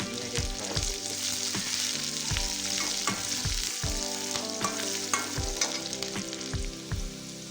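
Onion and garlic frying in hot oil with a little whole five-spice mix, a steady crackling sizzle close by with repeated scraping stir strokes against the pan, no voices.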